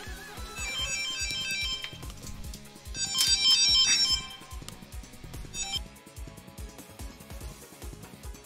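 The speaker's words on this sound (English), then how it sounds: "I'm getting a phone call." A ringtone for an incoming phone call plays over busy game music and sound effects, with a brighter, louder burst in the middle before fading back under the background noise.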